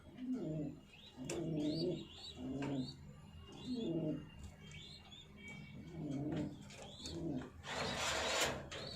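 Pigeons coo in a steady repeating rhythm nearby, deep rolling calls pulsing about once a second alongside higher chirps, ending with a brief noisy rustle.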